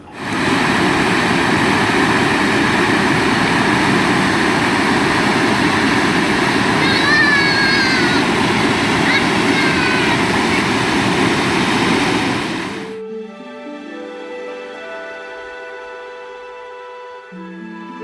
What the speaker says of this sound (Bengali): পাশ দিয়ে বয়ে যাচ্ছে রিম্বি রিভার, দারুণ লাগছে দেখতে।